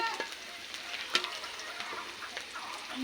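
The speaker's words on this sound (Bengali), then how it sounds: "দেখেন মরিচটা কিন্তু ভেজে নেওয়া হচ্ছে ভালো করে" Chilies frying in a pan on a clay stove, a close, continuous crackling sizzle with small pops, no talking.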